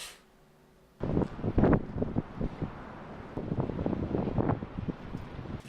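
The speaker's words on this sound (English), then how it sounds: "apparently the wind has seriously kicked up" Strong wind buffets the microphone outdoors in snowy weather, coming in loud, irregular gusts after a quiet opening second.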